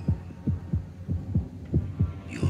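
A heartbeat sound effect from a Hammer horror Dracula trailer thuds in a steady, deep double-beat rhythm, about ten beats, close and alone over a low hum.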